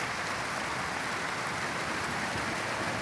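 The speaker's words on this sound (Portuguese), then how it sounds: "chuva no telhado" Steady rain drums on a house roof as a shower arrives, a dense continuous patter at moderate, even loudness throughout, with no voices.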